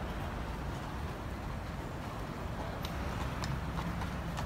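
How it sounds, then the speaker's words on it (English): Carriage horses plod along Central Park's roads in winter near the frozen lake, their hooves making a faint, steady clip-clop beneath a constant wash of outdoor city noise. "These horses have walked a few miles."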